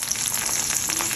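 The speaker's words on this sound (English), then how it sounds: "Just frying it." Cheese fries in a hot pan for a low-carb burger side, giving a steady, close hiss and crackle of sizzling fat with no voices.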